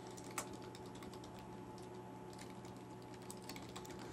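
Faint, quick key clicks come from someone typing on a computer keyboard while writing PHP and MySQL code in Notepad++. The taps arrive in scattered clusters over a steady low hum, with no speech.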